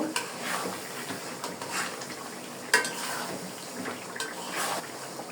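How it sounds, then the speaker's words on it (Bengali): Chicken for morog polao being stirred and sautéed in a pan, with scraping spoon strokes, light sizzling and occasional clinks of utensils against cookware, steady and close with no talking. "এখন ভালো করে লেড়ে লেড়ে কষিয়ে নেব।"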